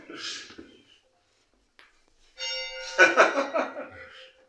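A large old bell in a school building is rung, its deep sustained tones swelling and ringing on with several strikes, after a brief stretch of voices and a quiet pause.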